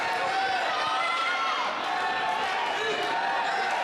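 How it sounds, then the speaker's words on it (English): A wrestling crowd in a coliseum arena roars and cheers for Logan Legit, a dense continuous wash of voices with whoops rising over it, under nearby talk. "this entire Coliseum's cheering for Logan"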